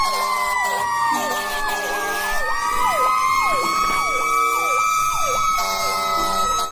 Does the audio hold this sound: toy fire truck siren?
yes